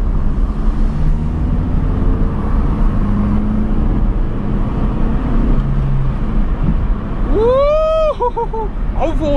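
A Hyundai HB20 car accelerates hard in third gear, its engine drone and road rumble steady and loud throughout, with whistling wind or a passing tone sweeping in near the end.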